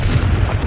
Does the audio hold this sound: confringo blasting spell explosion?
yes